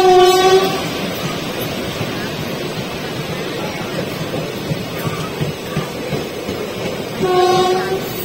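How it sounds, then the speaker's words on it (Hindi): An oncoming electric train passes at a single-line crossing on the Bareilly to Tanakpur route. Loud horn blasts open and close a steady, heavy rumble of passing wagons. "बट वो जो ट्रेन है आ रही है क्रॉसिंग होनी है"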